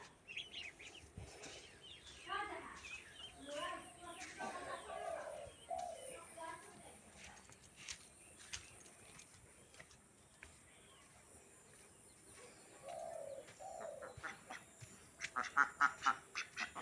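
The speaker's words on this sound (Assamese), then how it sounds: "লগতে এয়া ঘৰৰ পিছফালে এয়া চানা কেইটামান হাঁহৰ চানা ইয়াত পালন কৰে" Ducklings kept on a farm behind a house give bursts of bird calls, some close and some farther off, with faint voices in the background.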